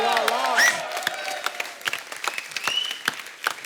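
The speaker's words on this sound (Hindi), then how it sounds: "एक बार जोरदार तालियां हमारे मेहमानों के लिए।" Studio audience on a comedy talk show clapping for the guests, a bright, steady patter of applause with distinct individual claps close by and a few brief cheers.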